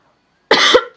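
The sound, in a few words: cough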